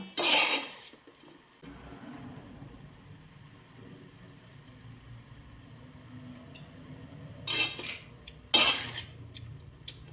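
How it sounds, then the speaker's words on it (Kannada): Spices being mixed into jackfruit palya in a pan, a few short bright scrapes and clinks of a spoon at the start and near the end, with quiet background hum between. "ಎಲ್ಲವೂ ಚೆನ್ನಾಗಿ ಮಿಕ್ಸ್ ಮಾಡಿಕೊಡುವ"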